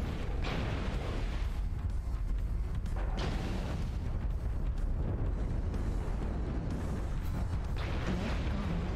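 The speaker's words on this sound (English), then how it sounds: "Warning, incoming missile. Destroyed. Weapon explosion detected." Dense, continuous battle noise from the MechWarrior Online game, with repeated booming explosions and rumbling blasts around an Atlas mech, loud and sustained throughout with several sharper bursts standing out.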